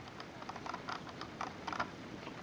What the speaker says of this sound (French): le bouton ici va servir donc à choisir si la souris sera crantée ou non